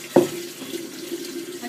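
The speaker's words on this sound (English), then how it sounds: "Then I'm going to fill this up with water." Water runs from a filtered kitchen sink tap into a container, a steady close pouring stream after a brief splash at the start, with no talking.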